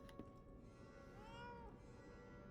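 A cat meows in the video game Lies of P, one drawn-out, rising-and-falling meow at moderate volume over quiet background ambience, with no talking.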